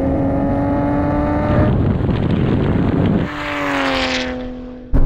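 A Nissan GT-R R34 accelerates hard in a drag race, its loud engine rising through the revs, dropping at gear changes and climbing again as another GT-R roars nearby.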